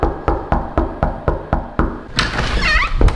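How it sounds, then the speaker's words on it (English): Knocking on a door, a steady series of about nine evenly spaced, loud hollow knocks, followed by rustling and a muffled burst of activity as the knocking stops. "Matter of fact, I'm about to knock on the door."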